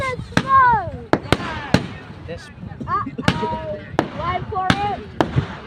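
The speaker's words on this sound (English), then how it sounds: "Those fireworks again." Fireworks burst again and again at Pounawea: sharp loud bangs come every second or so, some with whistling, crackling trails between them, while people talk and react nearby.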